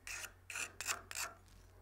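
Boring tool cutting edge honed by hand with short, rasping strokes, four distinct passes in a steady back-and-forth rhythm, close and fairly quiet with no talk.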